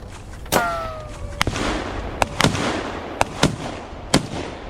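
Sharp, loud bangs ring out one after another at irregular intervals, each a sudden crack against a noisy background.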